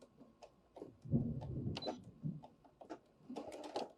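A sewing machine stitches a short back tack in a few quick, quiet bursts of whirring needle strokes with brief pauses between them. The sound is close and alone.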